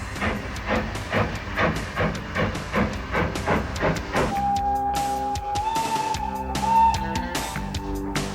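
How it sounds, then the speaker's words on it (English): A steam train pulls out of Haworth station on a heritage railway, with rhythmic chuffing exhaust beats, then hissing steam and a sustained whistle tone over rolling wheels and clanking carriages. "Pulling out of the Haworth station, our train will continue to climb gently."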